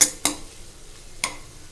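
Potato kurma in a frying pan, stirred with two brief sharp scrapes of a spoon against the metal over a very faint background sizzle, close and without talk.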